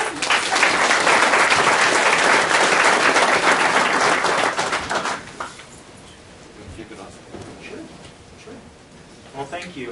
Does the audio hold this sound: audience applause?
yes